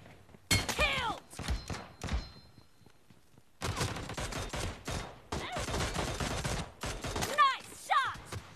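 Gunfire crackles in the battle royale video game BGMI, with bursts of shots and thuds, a gap of near silence, then denser rapid fire, with game sound effects and occasional chirps.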